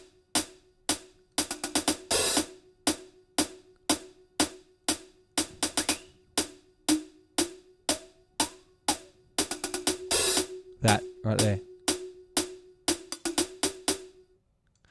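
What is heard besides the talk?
bell ringing in background of a song sample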